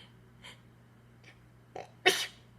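A single sharp sneeze near the end, preceded by a few soft intakes of breath, with quiet room hum throughout.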